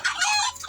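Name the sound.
chickens clucking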